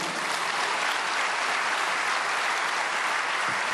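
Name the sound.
congregation applauding to welcome a pastor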